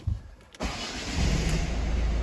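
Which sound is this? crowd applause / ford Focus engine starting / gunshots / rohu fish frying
ford Focus engine starting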